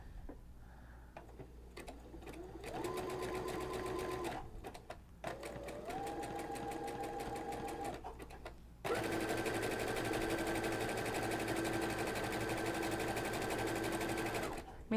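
A sewing machine fitted with a stitch-in-the-ditch foot runs in steady bursts while stitching an appliqué heart along its curve, with a brief pause between runs before a longer, faster continuous stretch.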